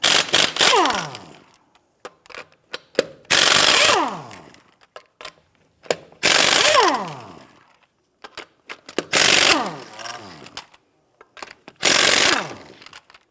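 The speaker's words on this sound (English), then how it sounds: "Use a 21mm socket to go ahead and loosen and remove the lug nuts." A 21mm socket tool loosens and removes the lug nuts on a 1992-1996 Toyota Camry front wheel: five loud bursts of whirring, rattling mechanical noise, each about a second long, separated by short pauses, close up with no talking.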